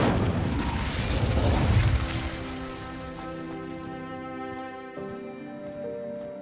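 Incendio fire spell cast in the video game Hogwarts Legacy, a loud whooshing burst of flame that fades into ringing, shimmering magical tones and mechanical clicks.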